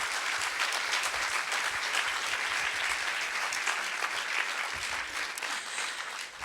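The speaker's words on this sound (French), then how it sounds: "je pense qu'on peut l'applaudir aussi pour toute son action" Attendees at a colloquium on traumatic memory give a sustained round of applause, dense and even clapping throughout with no speech, tapering slightly at the very end.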